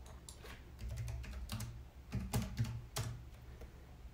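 Someone types a login and password on a computer keyboard, producing soft irregular key clicks in short bursts with a few louder taps, close and quiet with no speech.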